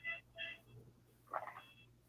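A phone keypad gives two short electronic beeps in quick succession as a name is typed, followed by a brief rustling handling noise, all faint and close.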